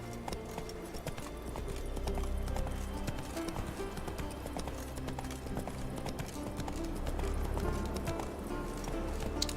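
Horse hooves clip-clop steadily in The Witcher 3: Wild Hunt, a continuous trotting rhythm over a low background ambience, with no talk.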